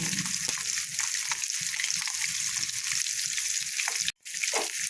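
Fish roe fritters frying in hot oil and being turned over, a steady close, loud sizzle with crackling pops and a brief break near the end.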